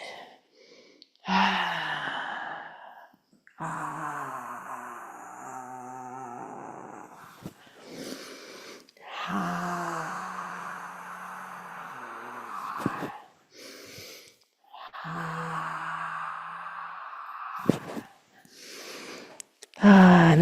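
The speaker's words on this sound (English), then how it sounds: "Breathe." Deep breaths during an exercise session are drawn in and pushed out, loud and close, in a slow repeating rhythm of long inhales and exhales with short pauses between them.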